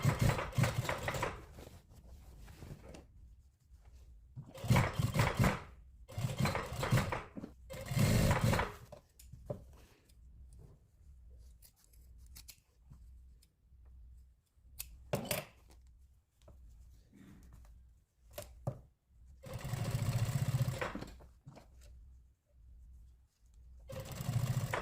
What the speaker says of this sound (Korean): 한 선 박으신 다음에 달아서 또 한 선 박죠.